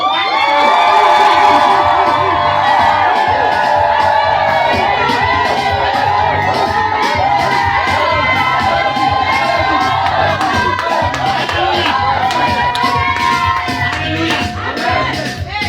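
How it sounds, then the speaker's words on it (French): A church congregation shouts for joy during a Sunday prayer service, with sustained loud cheering, whoops and high-pitched cries blending into a continuous roar over organ-like tones. "Est-ce que tu vas pousser un cri de joie?"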